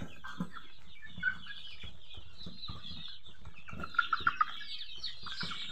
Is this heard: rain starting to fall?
no